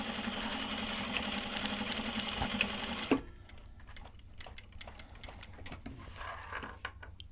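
A sewing machine stitches at a Heritage Park Christmas market stall, a fast whirring mechanical rattle for about three seconds that then stops, followed by quieter scattered clicks and taps of the mechanism.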